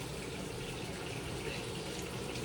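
Tap water pours onto dried fish to draw out the salt, a steady, soft rushing gush with no break, near and alone.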